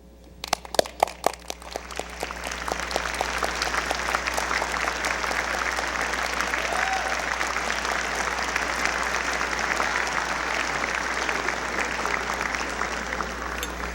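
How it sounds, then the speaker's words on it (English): Graduates stand and applaud at a University of North Dakota winter undergraduate commencement. A few scattered sharp claps build quickly into a broad, sustained ovation from a large crowd that stays full and even to the end, over a steady low hum. "I want you to stand up and applaud for all of the people who got you here today"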